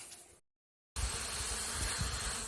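Bees buzz steadily in a dense, close swarm around communal feeder buckets after a brief silent gap, a constant loud hum.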